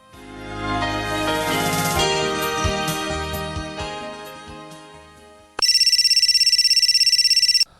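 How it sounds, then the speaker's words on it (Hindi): A telephone rings early in the morning, a loud, steady electronic ringtone pulsing in rapid repeated bursts after a swelling musical passage fades out, with no talk. "इतनी सुबह सुबह किसका फोन आ गया?"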